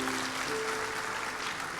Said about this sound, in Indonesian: Bapak Ibu jangan tepuk tangan karena panjangnya itu loh, jangan.